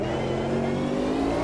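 A Mercedes CLK LM race car engine in Automobilista 2 holds a steady, loud, high-revving whine at full throttle in high gear, alone with no talk.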